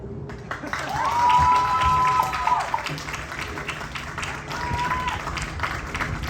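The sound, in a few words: audience clapping for the marching band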